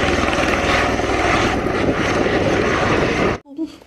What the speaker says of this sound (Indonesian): Wow, baling-balingnya berputar.